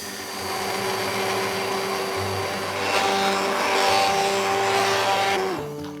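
A blender purees a butternut squash broth with a loud whirring motor whose pitch dips and rises as the mixture churns, then winds down and stops near the end.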